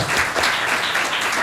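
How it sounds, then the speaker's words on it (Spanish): A crowd gives a warm round of welcome applause at a cultural literary gathering, dense clapping that is loud and steady throughout the short stretch. "Les ofrecemos, si les parece, un aplauso de bienvenida a"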